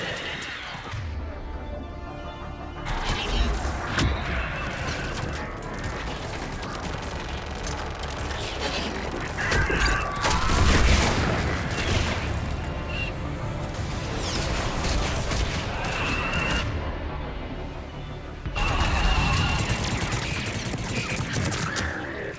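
Missile strikes and gunfire in the video game Mass Effect 3: continuous loud crashing explosions and rattling fire, layered booms rolling through a battle for over twenty seconds with almost no speech.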